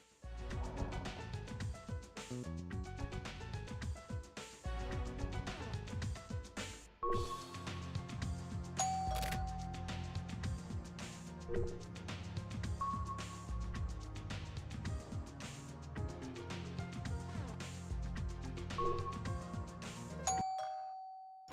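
Electronic bell and doorbell-like ding-dong chimes from the video game The Silver Case ring several times over busy game music, ending with a sustained tone.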